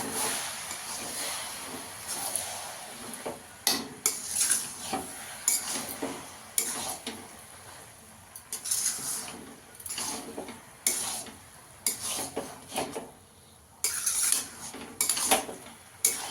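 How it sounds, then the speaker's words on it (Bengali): A spoon clinks and scrapes in a pan while prawn and cabbage curry is stirred with garam masala, irregular metallic knocks and scrapes over a faint sizzle. "গরম মশলা দিয়ে দেবো একটু 1 চামচ, ভালো করে মিশিয়ে দেবো।"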